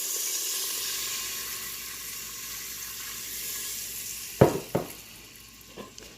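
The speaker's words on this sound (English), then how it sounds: "I'm going to add in my beef stock." Beef stock poured into a hot pot for keto short ribs, giving a steady hiss of sizzling that runs throughout, broken near the end by a few sharp clattering knocks, all fairly quiet and close.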